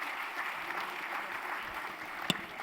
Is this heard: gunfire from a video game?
no